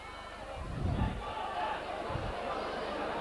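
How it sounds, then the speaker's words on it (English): A rugby league stadium crowd in Widnes v Wakefield groans and murmurs in displeasure after a referee's decision, a broad swelling roar of discontent under a commentator's voice. "And the crowd not very happy at all with that decision."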